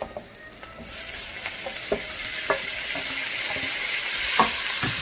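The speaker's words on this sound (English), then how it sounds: "We're gonna keep sauteing." Tomatoes sautéing with golden caramelized onions in a pan for beans and chana masala, a steady broadband sizzle rising slightly over five seconds, punctuated by several sharp clicks and scrapes of stirring.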